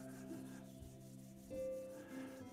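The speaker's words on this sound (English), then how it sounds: "go ahead and rub your palms together" Palms rubbing together during a Kundalini yoga relaxation class, a soft steady friction hiss that swells and eases over a couple of seconds above a faint, sustained tonal hum.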